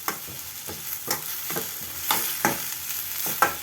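Garlic and ginger sautéing with spices in a pan, a steady soft sizzle broken by repeated clinks and scrapes of a spoon stirring, close and moderately quiet.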